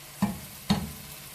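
Tomatoes frying with onions and bell pepper for paella, stirred with two quick scraping strokes through a soft, steady sizzle, close and fairly quiet.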